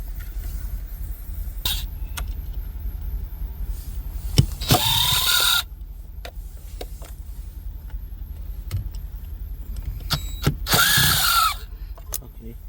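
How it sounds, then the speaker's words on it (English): Power screwdriver removing two Torx screws from the interior trim of a 2015 Mercedes-Benz S63, heard as two short whirring bursts a few seconds apart, close by, with faint clicks in between. "There should be two torque screws inside. Those two torque screws we're going to remove."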